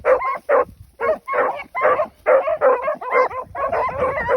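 Hound puppies barking over and over in quick bursts while running rabbits outdoors, loud and close with short gaps between the yips.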